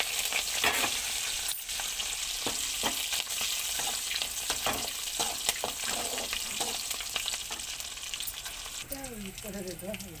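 Mustard seeds, dried chillies and curry leaves sizzle steadily in hot oil for a lemon pickle tempering, a dense crackling hiss with sharp pops throughout, then a brief higher tonal sound near the end.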